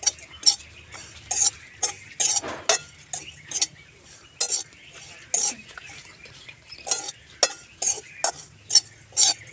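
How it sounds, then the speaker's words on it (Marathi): Rhythmic scraping of a spatula stirring grated coconut roasting dry in a pan, repeated strokes about once a second, close and fairly loud, with no talking. "हे खोबरं भाजून घेऊया हे सगळं भाजून घेऊया"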